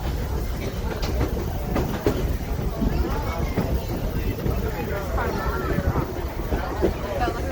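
A steam locomotive-hauled train (611) rolls steadily along the rails with a continuous rumbling clatter and rocking rhythm, heard from on board, loud and close with wind noise.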